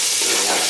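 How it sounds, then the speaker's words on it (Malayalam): Onions fry in a pan for a Kerala-style mixed pasta masala, giving a loud, steady, close sizzle with stirring scrapes throughout the short stretch. "അപ്പോൾ നമ്മുടെ സവോള നമ്മൾ ഇട്ട് കൊടുത്തിട്ടുണ്ട്."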